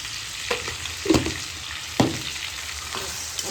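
Salted onions fry for chicken curry in a pan, giving a soft steady sizzle with a few louder clinks and stirring scrapes near the middle.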